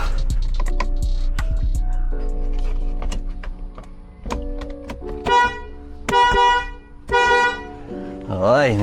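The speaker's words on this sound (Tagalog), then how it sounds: "Okay, may busina na din." An Alpha dual car horn, newly fitted on a car, blasts a series of close, loud honks, some short and some held, with a wavering tone at the end and voices talking nearby.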